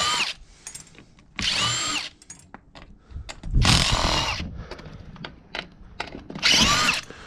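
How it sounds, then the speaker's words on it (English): A long-bit power screwdriver backs screws out of scrap recliners in repeated short whirring bursts, loud and close, with quiet handling noises between the runs. "I got this longer bit screwdriver to assist me with the recliners, make it faster and easier."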